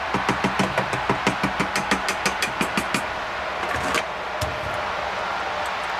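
A 1948 Chevy 5-window 1-1/2 ton farm truck, retired since 1995 and newly fitted with coil, condenser and rotor, cranks with rapid rhythmic starter chugs before catching and settling into a rough, loud idle.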